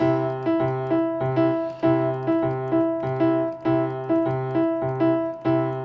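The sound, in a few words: three against four polyrhythm played with hands flipped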